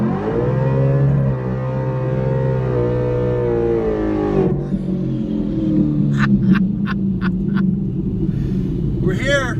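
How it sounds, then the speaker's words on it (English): Ford Mustang S550 engine droning loudly while driving, its pitch climbing steadily before a gear change drops it, then a steady rumble continues with people talking in the cabin. "If you guys don't have one of these, it's an S550 Mustang."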